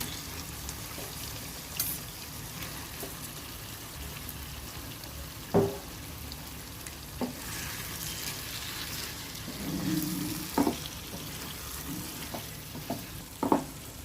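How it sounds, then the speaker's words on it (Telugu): Raw prawns sizzle and fry in a pan, a soft, steady crackle with occasional stirring clinks and scrapes. The sound is fairly quiet and no one speaks. "శుభ్రంగా క్లీన్ చేసిన పచ్చిరొయ్యలు మనం ఇప్పుడు వేసేసుకుందాం."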